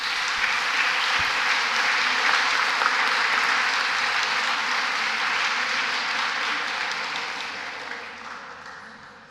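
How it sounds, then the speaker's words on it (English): Sustained audience applause at a church social kickoff gathering, loud and dense throughout, tapering off slightly toward the end. "I'd ask you to give another round of applause to our 4 extraordinary"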